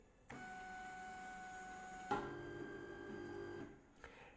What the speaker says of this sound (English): I don't know why my printer slams home so hard.